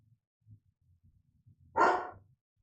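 A single dog bark, one loud gruff burst rising out of a quiet room with soft background rustling.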